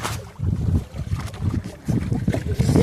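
A boat rides across open water, with loud wind buffeting the microphone and churning water rushing close by in uneven surges.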